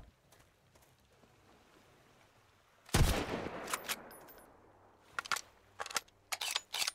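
Video game gunfire in Sunkenland, one loud close shot with a long echoing tail, then a short quiet gap and several sharp rapid bursts of shots near the end.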